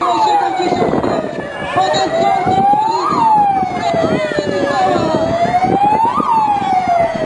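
A police car siren wails in slow rising and falling sweeps over engine rumble at an outdoor Christmas charity event, loud and close throughout.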